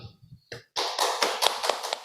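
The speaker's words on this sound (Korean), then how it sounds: "김조동 선교사님을 큰 박수로 맞이하겠습니다." An audience claps in welcome for a missionary speaker at a Korean missionary forum, a burst of applause that starts right after a short spoken announcement and continues densely to the end.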